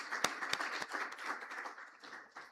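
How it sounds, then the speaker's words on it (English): Applause from an audience at a council meeting: a short burst of scattered clapping with a few sharp claps, moderately distant and fading after a couple of seconds, with no talk over it. "Another round of applause, please."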